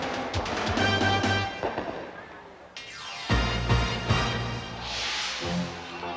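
Fireworks set off over a ballpark after a late-night baseball game, a string of loud bursts and crackles echoing across the stadium with crowd noise under them.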